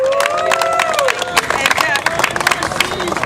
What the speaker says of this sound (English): Speaker Quinn, you deserve a big round of applause.